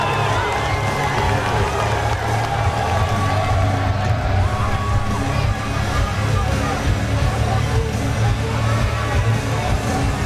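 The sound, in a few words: arena crowd cheering at a boxing event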